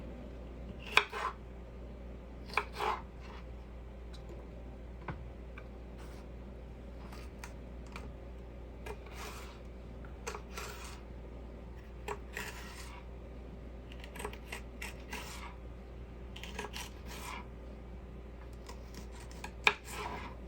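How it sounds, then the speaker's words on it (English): Kitchen scissors or a knife cut food into strips for a Ninja air fryer in a tiny home kitchen, giving scattered soft clicks and snips against a steady low hum, with no talking. "And you just cut your strips to whatever size that you want."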